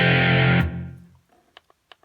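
A heavy distorted guitar chord through the reverb of a Mooer PE-100 multi-effects unit rings out and decays into a long reverberant tail, followed by a few quiet, sparse plucked notes with echoing space.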